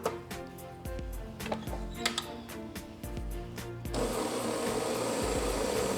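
Electric mixer beating room-temperature butter in a home kitchen, a steady whirring motor with rhythmic clattering of beaters against the bowl, growing louder and brighter near the end.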